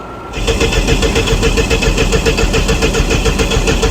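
A car engine cranks steadily after a dose of brake cleaner, a fast rhythmic churning that runs loud and close for nearly four seconds, without quite catching.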